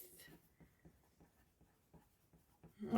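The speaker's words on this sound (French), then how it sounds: "J'écris tout au fur et à mesure" A pen writing on paper, with soft rhythmic scratching strokes at close range, fairly faint in a quiet room.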